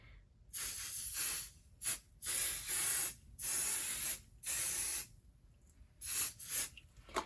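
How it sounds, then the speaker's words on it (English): Repeated bursts of aerosol spray hissing close up, held about 12 inches from a surface, about seven short light sprays with brief pauses between, no talking. "Hold can 12 inches from the surface and lightly spray."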